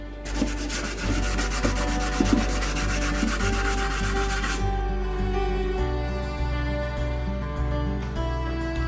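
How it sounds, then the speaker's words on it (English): Sanding filler on a wooden radio case, a steady continuous rasping rub that runs throughout, close and fairly loud, with a slight change in tone partway through. "Okay, so sanded off"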